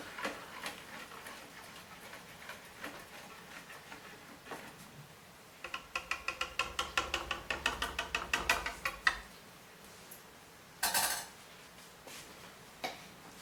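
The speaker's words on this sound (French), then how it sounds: "On remue un petit peu." A spoon stirs homemade Marseille soap laundry detergent in a container, giving a quick run of close, rhythmic clinking taps, followed by a louder scrape and a few isolated knocks.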